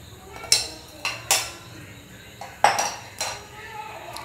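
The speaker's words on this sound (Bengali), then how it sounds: "সেমাইগুলো দিয়ে দিচ্ছি, আবার সেঁকে নিব।" A spoon clinks and scrapes against a pan as lachha vermicelli is stirred and roasted. About six sharp metallic strikes come at uneven intervals over a faint background hiss, close up.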